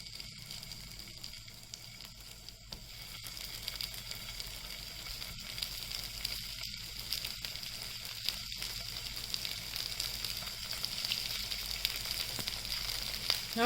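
Poha tikki patties shallow frying in oil in a pan give a steady, soft sizzle with faint crackles, close and quiet, continuing evenly with no voices.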